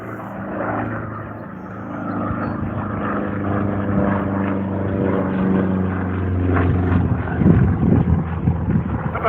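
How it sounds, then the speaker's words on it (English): A Sukhoi Su-26 aerobatic plane performing at an airshow, its propeller engine droning loudly with a rising and falling tone as it passes, mixed with wind buffeting near the end. "Let's listen to the sound of that engine."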